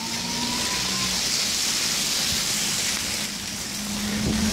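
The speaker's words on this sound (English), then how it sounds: "here's a car that's going to kill me." A car passing on a snowy street, its engine and tire swish rising loud and close, then fading with steady wet road noise.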